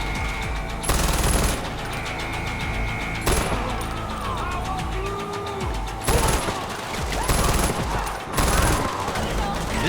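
The player's gun firing in Far Cry 4, loud automatic bursts at intervals over continuous battle noise, with voices talking in between.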